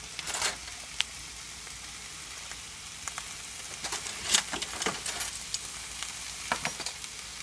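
Fajita vegetables with coriander and other seasonings sizzle and scrape faintly as a spoon stirs them in a hot pan, with soft clinks and bursts of crackle over a steady low hiss and no talking.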